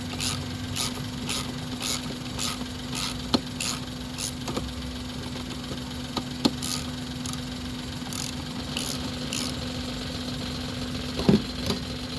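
Suzuki Celerio engine idling roughly with a shaking vibration at around 57,000 km, a low steady hum with a regular ticking pulse and occasional sharp knocks, heard close and alone.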